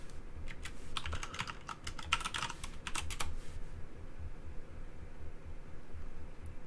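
Quick bursts of keystrokes clatter on a computer keyboard during RuneScape gameplay, a run of fast, close taps lasting a few seconds before giving way to quiet background hiss.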